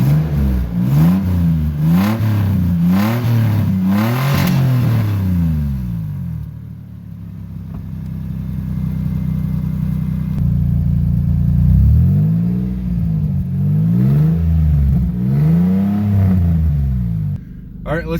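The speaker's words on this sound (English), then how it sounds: "So let's fire this old baby up and see what she sounds like." Old truck with a cherry bomb muffler, fired up and revved hard in repeated rising and falling bursts, then idling with a deep rumble before several more loud revs close by.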